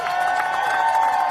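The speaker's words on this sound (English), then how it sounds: "much to the cheers of the crowd" Crowd of a couple dozen protesters cheering at a street protest as NYPD officers back away, a steady, fairly loud mass of voices and shouts with no individual words standing out.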